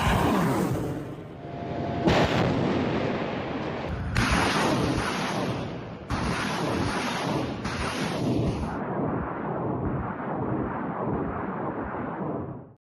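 A TOS-1A Solntsepyok heavy rocket launcher fires on a position, producing a series of loud, booming blasts and rumbling detonations that overlap in rapid succession before a sustained roar trails off.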